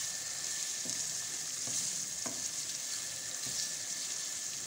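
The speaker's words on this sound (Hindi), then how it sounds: "बिल्कुल मिक्स कर लेते हैं 2 मिनट तक, इसको और अच्छे से भून लेते हैं" Kaleji (liver) stir-fries in a pan for an Eid recipe, giving a constant loud sizzle with occasional soft spatula scrapes.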